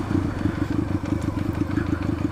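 A motorcycle engine idles unevenly after a transmission rebuild, a loud, close, lumpy low thumping with a slightly irregular pulse throughout.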